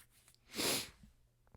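A single short, breathy sneeze, close and fairly soft, with quiet surroundings before and after.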